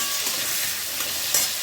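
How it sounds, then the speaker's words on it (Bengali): Potatoes fry in hot oil with turmeric and salt in a kadai, a loud, dense sizzle that hisses steadily and up close, with faint stirring scrapes and no voices. "আলুগুলো ভেজে নেব।"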